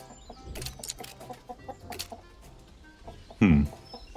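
Chickens clucking in a coop in the video game On Your Tail, a cluster of soft clucks through the scene and one louder squawk near the end.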